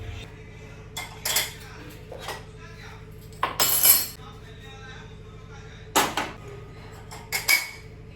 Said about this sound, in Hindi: मैं जो भी बर्तन हैं धुले हुए, इनको ऑर्गेनाइज़ कर दूँगी।